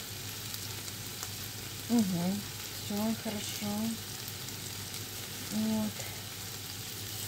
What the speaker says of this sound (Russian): Там варится, тут жарится.